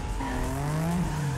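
A big fire truck in the arcade racer Cruis'n Blast, its tires squealing in a rising, sliding skid over steady engine noise, close and loud.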